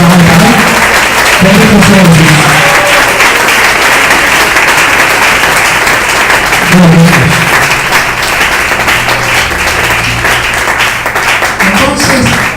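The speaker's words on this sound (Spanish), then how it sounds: "brinde la fuerte la aplauso al Señor en esta mañana" Applause from a church congregation during a Sunday morning service, a loud steady wash of clapping that runs throughout, with a voice speaking over it at intervals.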